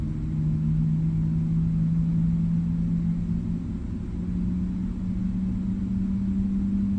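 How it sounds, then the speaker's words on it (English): Boeing 777F jet engines spooling up in a flight simulator, a loud steady low rumble with a sustained drone that holds and slowly rises in pitch, with no voices. "Look at those big old engines spooling up."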